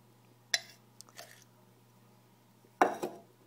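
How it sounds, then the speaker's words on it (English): Fork scraping and tapping as bannock dough is scooped into a pan, a few sharp, close clicks and scrapes separated by quiet pauses over a low steady hum. "I'm just kind of scooping it in the pan"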